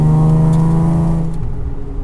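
A 400 hp Chrysler Crossfire track car exits a corner under throttle, its engine droning loud and steady before easing off, the tone fading and thinning toward the end.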